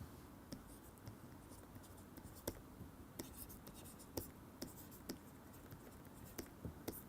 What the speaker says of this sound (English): let me write it slightly more clearly